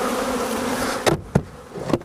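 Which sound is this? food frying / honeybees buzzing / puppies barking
honeybees buzzing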